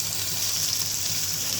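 Spring onions hit hot oil for fried rice with a continuous, fairly loud sizzle and crackle, close by and alone.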